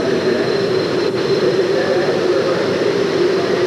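A pulling tractor's engine builds boost before a run at a 1991 NTPA tractor pull in Canfield, Ohio: a loud, continuous jet-like roar that stays even and sustained for the whole stretch.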